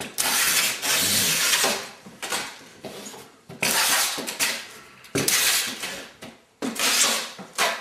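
Packing tape pulled and pressed down to seal a cardboard carton of books, CDs and DVDs: several loud, bursty rips and rubs in quick bouts separated by short pauses, close by with no talk.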